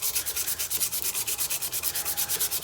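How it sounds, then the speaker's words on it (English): Sapele mahogany pen blank rubbed with sandpaper in quick, even back-and-forth strokes, a close, regular rasping rhythm of about eight passes per second with no voices. "Same for sandpaper."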